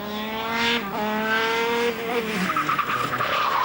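A small kart spinning out on a test track: a loud, sustained tire squeal with wavering pitch drops away into scrubbing and skidding as the kart comes to a stop, with no voices.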